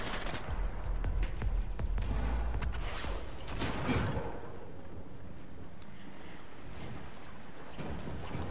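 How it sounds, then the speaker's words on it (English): Rapid bursts of gunfire in the video game Fortnite crackle over a dense, rumbling background during the first few seconds, then settle into a steady low hum with no talk. "I can hear gunshots."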